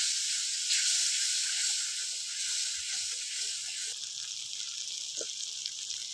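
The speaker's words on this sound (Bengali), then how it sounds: "লবণ, কাশ্মীরি লঙ্কার গুঁড়ো, হালকা একটু জল দিয়ে মশলাটা কষিয়ে নেব।" Masala of turmeric, salt, Kashmiri chili powder and a splash of water sizzles in a pan: a loud, continuous, hissing fry close up, steady throughout with faint small pops and no talking.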